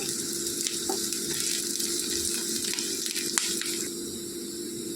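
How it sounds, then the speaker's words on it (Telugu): Green chillies and curry leaves frying in oil in a pan, giving a steady close sizzle with a faint crackle throughout and no talk. "ఇలా కట్ చేసి పెట్టుకున్న మిర్చి కూడా వేసేసుకొని వేయించుకోవాలి."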